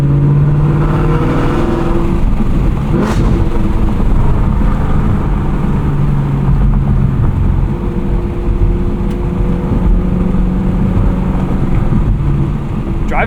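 A modified 2022 Camaro SS 1LE V8 running on E85 gives a loud, steady low rumble with a deep drone that holds throughout, captured close with no talking.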